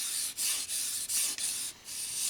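A knife drawn along a 600 grit sharpening stone on an EdgePro Apex system, making five or six even, hissing rubbing strokes in a steady rhythm, close and clear with no voices.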